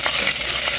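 Ginger frying in a pan as the first step of ginataang suso, a steady close sizzle with light stirring scrapes running continuously through the short moment.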